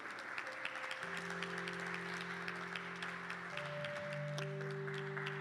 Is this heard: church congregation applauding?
yes